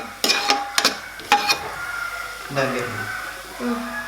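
Onions being sautéed in a pan for vegetable salna give a light sizzle with a few clinks of the spatula against the pan, heard under conversation.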